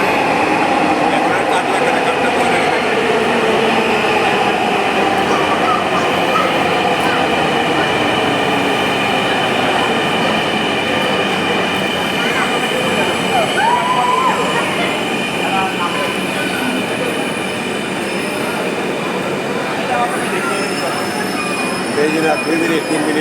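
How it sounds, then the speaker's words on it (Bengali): A Dhaka Metro Rail train pulls into a station platform, a steady loud rumble of wheels and motors with a faint high squeal and hum that lasts throughout at close range. "আমাদের ট্রেন চলে এসেছে।"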